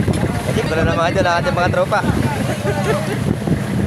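Strong wind buffets the microphone on a fishing boat in the West Philippine Sea, with heavy waves churning around the hull; someone talks loudly over the constant roar.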